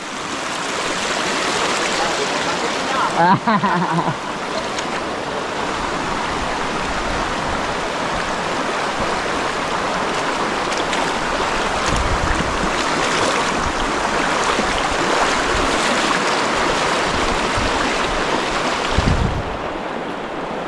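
Strong, fast river current after heavy rain in a rural area, a loud continuous rushing roar of flowing water, with a brief faint voice and a few splashy thuds.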